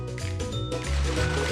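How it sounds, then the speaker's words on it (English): Vegetable oil glugs and splashes as it is poured into a large deep fryer, a short liquid gush that thickens and grows louder toward the end. "bring 25 gallons of vegetable oil and a large deep fryer. And then we pour it all."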